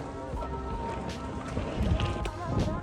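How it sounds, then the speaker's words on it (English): Strong, gusty wind buffets the microphone during a roof rebuild, a continuous rushing roar that swells and eases. "All this wind is not allowing us to put this tarp on."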